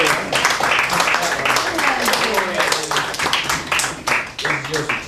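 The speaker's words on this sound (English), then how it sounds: "Give her a round of applause." Classroom applause for a student being honored as Student of the Month, a steady wash of many hands clapping for about five seconds with voices mixed in underneath.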